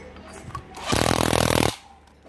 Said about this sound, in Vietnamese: Test búa cho anh em luôn,